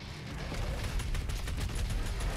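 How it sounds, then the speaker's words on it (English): Rapid heavy cannon fire from the first-person shooter Doom Eternal, a dense stream of sharp repeated shots over a low rumbling game soundscape, loud and continuous for the whole stretch. "Oh, I like the heavy cannon."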